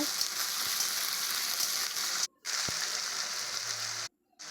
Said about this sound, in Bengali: আলুগুলো ভালো করে লাল লাল করে ভেজে নেব